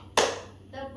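A class of schoolchildren claps together once in an ice-breaker clapping game, one sharp burst from many hands that quickly dies away into a quiet room.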